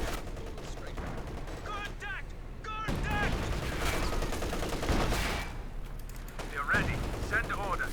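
Rapid bursts of gunfire and explosions crackle through a video game battle between squads with half-tracks and flak vehicles, dense and continuous, with a commentator's voice talking over the shooting throughout.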